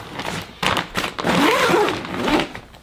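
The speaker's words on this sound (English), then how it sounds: "We'll go ahead and put this on and zip it up." A backpack zipper is drawn closed in a few quick rasping pulls, close and fairly loud, with a short pause between strokes.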